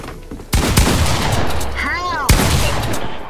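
Gunfire in a Fortnite box fight: a few sharp, loud shots ring out over dense, continuous game noise, with one more distinct shot near the end.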